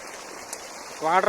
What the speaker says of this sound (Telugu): వాటర్ చూడండి, వాటర్ ఫుల్గా పోతున్నాయి.